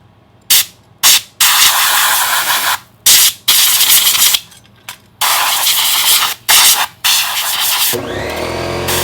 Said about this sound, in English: I gotta spray that out.